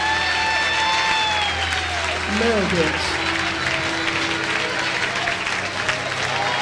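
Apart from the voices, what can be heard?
congregation applauding loudly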